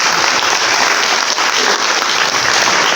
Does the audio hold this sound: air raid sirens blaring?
no